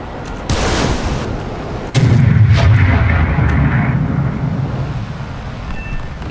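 A minigun fires from a slim, pencil-shaped plane in a video game: a loud, continuous roaring burst that swells sharply after a moment, then holds steady with a droning rumble underneath.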